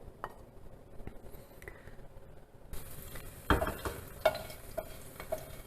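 Fresh chilies and garlic hit hot oil in a pan for orecchiette with cime di rapa, bringing on a sudden bright sizzle partway through, with a few close clinks and stirring scrapes over the steady frying hiss.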